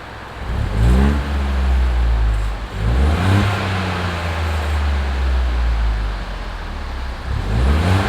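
A black Ford Fiesta Zetec S with a Cobra exhaust revs repeatedly, several sharp rises in engine pitch over a deep, throaty idle, loud and close with no voices.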